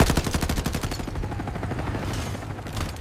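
Sustained gunfire from a military helicopter crew shooting at a giant anaconda, a dense burst of rapid automatic shots that runs nearly continuously and loud throughout, with no talk over it.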